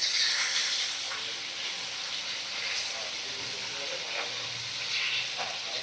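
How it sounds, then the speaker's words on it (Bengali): Fish pieces frying in hot oil in a kadai over medium flame, a steady close hiss and sizzle that holds evenly throughout with no talk over it. "একটা একটা করে মাছ আমি ছেড়ে দিয়েছি দেখো গরম তেলের মধ্যে, আর সেগুলো ভাজা হচ্ছে"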